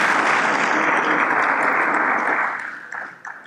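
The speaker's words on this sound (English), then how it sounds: "a round of applause as he takes his seat" A crowd at a business summit awards session claps loudly and steadily, then the applause thins out and fades near the end.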